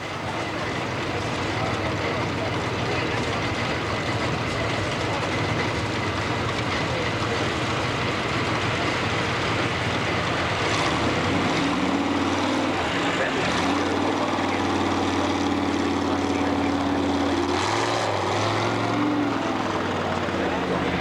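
Tractor engine roaring at a 1985 tractor pull in Quambatook, a loud continuous drone with rising tonal whine later on, heard amid outdoor crowd noise and some talk.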